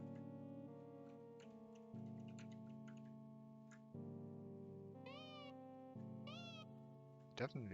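A cat meows twice in short rising-falling calls over a steady tonal musical background with ticking, fairly faint, followed by a brief burst near the end.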